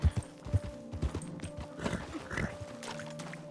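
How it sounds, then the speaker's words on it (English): Horse in the RedM roleplay game, with a few close hoof clops and snorting sounds in quick, uneven steps, no talk over it. "that's my horse."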